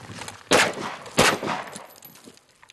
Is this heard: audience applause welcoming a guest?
no